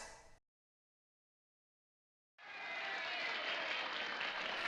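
Applause from a gathered audience at a ceremony, a brief sound cut off, then silence, then a dense, steady wash of clapping that swells in and holds loud.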